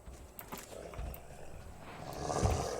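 A bear roars in the survival game Raft, a low, rough growl that swells toward the end over faint background ambience.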